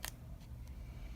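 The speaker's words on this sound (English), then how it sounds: "we'll just go in with a pair of scissors, and all I'm really going to do is cut off the corners" Scissors make a few crisp snips, cutting off corners. The sharp clicks come in a short, spaced run over a low steady background hum.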